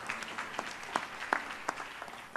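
Sparse clapping from a congregation at a church worship night, scattered individual claps at moderate distance with little else around them.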